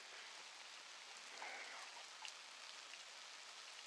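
Steady rain falls in Peru, a dense even hiss of drops on a surface, continuous and very quiet with no voices.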